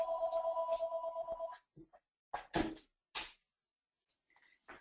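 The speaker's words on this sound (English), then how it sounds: "That's the telephone, everybody." Office landline telephone ringing during a live webinar, a repeated pulsing electronic ring for about a second and a half that then cuts off, followed by a few clunks and handling knocks.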